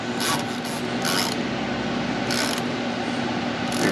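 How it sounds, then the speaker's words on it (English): Bolt being hand-tightened on the bushings of a 1995 Jeep Wrangler 4.0, a steady close rubbing and rasping with faint intermittent scrapes and metallic ratcheting, no talking. "we're just gonna hand tighten this until it starts to collapse those bushings"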